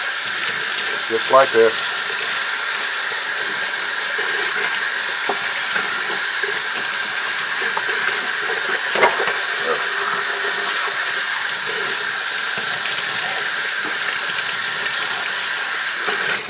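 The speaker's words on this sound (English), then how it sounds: "So just rinse it off in a sink," Tap water runs steadily into a sink while a photopolymer plate is rinsed clean, a constant broadband hiss throughout with a few brief clatters and someone talking briefly over it near the start.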